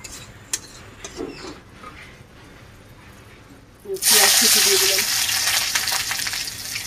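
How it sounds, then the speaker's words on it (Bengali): Panch phoron, bay leaf and a dried red chilli drop into hot oil, setting off a sudden loud, sustained hiss and crackle after a few seconds of quiet kitchen sounds and faint voices. "তেলের মধ্যে পাঁচ ফোড়ন, তেজপাতা, একটা শুকনো লঙ্কা দিয়ে দিল"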